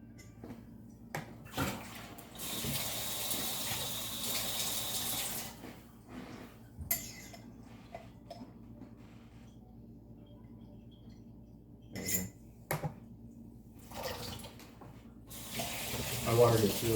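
Tap water runs into a marked jar in bursts, filling it about two ounces while someone talks nearby, the flow starting and stopping several times.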